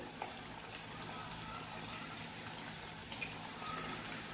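Potato chips fry in oil in a kadhai over a medium gas flame, a soft, steady sizzle with faint bubbling pops, quiet and continuous.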